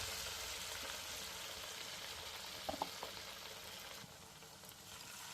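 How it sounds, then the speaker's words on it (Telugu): Bottle gourd fritters (sorakaya gaarelu) sizzle in hot oil, a steady quiet crackling hiss with a few brief louder pops partway through. "చూసారా, వేగుతున్నాయండి"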